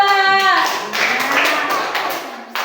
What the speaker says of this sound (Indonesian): Beri tepuk tangan untuk hasil diskusi kelompok 2.